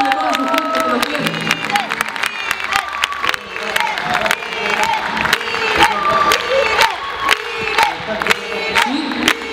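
A school charity evening crowd at Colegio Antilen applauds and cheers steadily, dense clapping mixed with shouts and whoops, loud and close throughout.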